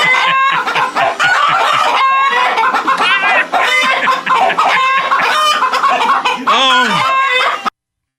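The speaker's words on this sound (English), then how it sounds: "It's like, okay, all them clucking." A flock of chickens clucks steadily while a rooster crows among them, a loud, dense, close chorus of overlapping calls lasting several seconds.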